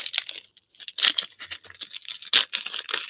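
Foil trading card pack being torn open by hand, a dense run of crisp crinkling and ripping bursts, close and fairly loud, with no talking.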